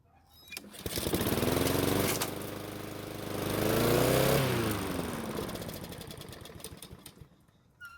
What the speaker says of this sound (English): the engine finally started, and it almost seemed like it was going to stay running before it finally stopped